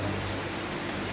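Steady heavy rain pours down in a dense, constant hiss with no voices.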